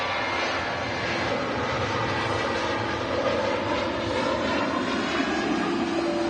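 Turkish Airlines Airbus A330 engines roar at a distance at Manchester Airport, a broad, sustained rumble with a faint whine that holds steady throughout, with no voices.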